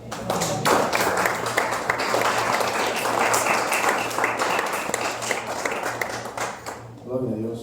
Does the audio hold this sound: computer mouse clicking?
no